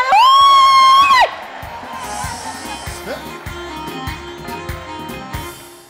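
A church congregation at a worship service ululating and cheering, a loud sustained high trilling ululation at first, then a fainter mix of shouts, whoops and crowd noise with a voice underneath.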